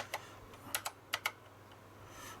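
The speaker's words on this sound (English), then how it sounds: "Just checking the keyboard." Keys on an Acorn Electron home computer keyboard being tested: several sharp, separate clicks, some in quick pairs, close and fairly quiet over a low steady background hum, with no talking.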